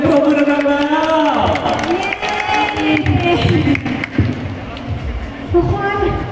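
Crowd at a stage show in a Fashion Island event space cheers and applauds loudly throughout, with harmonic vocal tones riding over the dense clapping noise.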